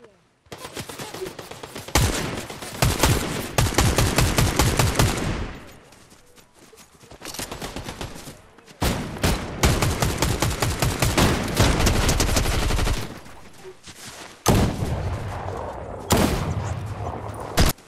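Gunfire in the video game Fortnite Chapter 5: loud, rapid bursts of automatic shots in long volleys, broken by brief pauses and a few sharper single blasts.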